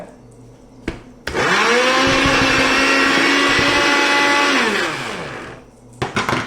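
An electric mixer grinder whirs loudly as it grinds a curry masala paste for a Kerala fish curry, a steady high whine that starts abruptly and then winds down, with light clatter before and after.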